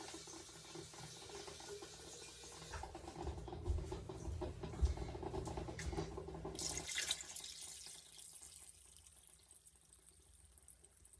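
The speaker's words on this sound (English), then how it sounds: "So, I'm going to add water to mine." Water pours into a pot of vegetable soup with cabbage and beans, a quiet splashing and trickling stream that swells midway and then tapers, with faint clinks and no talking.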